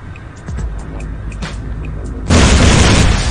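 A self-inflicted rocket blast from a heavy offensive rocket system in Pixel Gun 3D erupts as a loud, dense booming roar over steady game noise, holding on through the rest of the moment.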